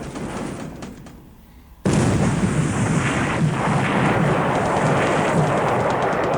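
Bomb hits land on cargo ships in the War in the Pacific strategy game: a rumbling blast erupts after a quieter lead-in and settles into a sustained roaring, thunder-like explosion noise.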